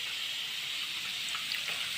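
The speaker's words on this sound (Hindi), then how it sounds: "मम्मा पूरा गाजर का पानी निकाल दे रही है।" Water is poured off grated carrots in a home kitchen, making a steady, close, hissing rush of running liquid that continues throughout with a few brief splashes.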